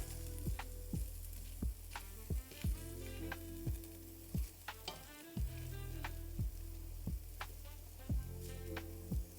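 Food crisps in a pan, a steady sizzle and fry underlying regular sharp taps and clicks, close and fairly quiet with no talking.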